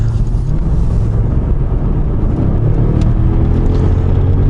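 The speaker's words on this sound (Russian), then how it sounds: "В спорте уже повеселее. Рев, уже более жесткое переключение." A Mercedes S-Class W221 engine in sport mode roars with a deep, steady low rumble under heavy road and wind noise, heard from inside the moving car with no talking.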